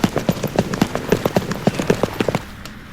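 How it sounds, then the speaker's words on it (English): Horses' hooves clip-clopping in a quick, steady rhythm of sharp close knocks, several animals moving at pace, fading out near the end. "Now spur the horses,"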